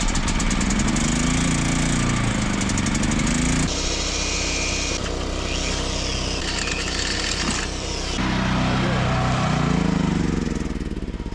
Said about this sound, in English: So I brought a generator and bought the finest drill money can buy